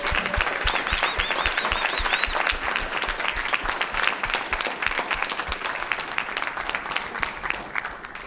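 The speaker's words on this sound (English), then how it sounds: "Please give yourselves all a round of applause again" Dense, sustained applause from an audience at the Space Apps NYC 2015 award ceremony, steady clapping that fills the room and slowly eases off toward the end.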